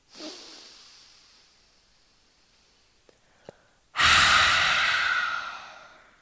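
A forceful yoga exhalation, a loud breathy rush of air pushed out through the mouth with the tongue out, lasting about two seconds after a quiet lull with soft breaths and small clicks.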